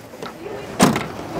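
A Hummer EV camper's tailgate swings shut with a single solid thunk near the middle, followed by a short mechanical rattle, heard up close over quiet background.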